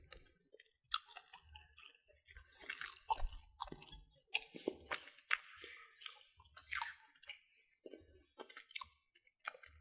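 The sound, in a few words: chewing macaroni pie, baked chicken and pigeon peas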